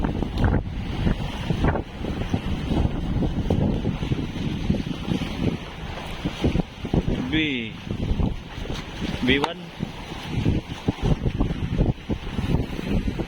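Loud gusting wind batters the microphone with rough rumbling bursts, while voices murmur faintly underneath and a boat engine or water churns close by.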